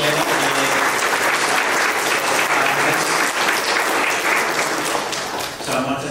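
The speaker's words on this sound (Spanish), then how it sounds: "Hermanos y hermanas, un gran aplauso, por favor," Audience applause during a quinceañera church ceremony, a loud, dense wash of clapping from a crowd filling the room, sustained and even before thinning slightly near the end.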